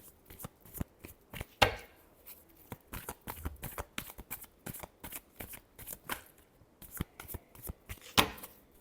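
Tarot cards are shuffled by hand, a close series of crisp riffling and slapping bursts in uneven rhythm, with several louder snaps along the way and no talk.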